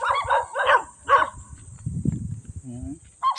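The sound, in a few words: dogs barking outdoors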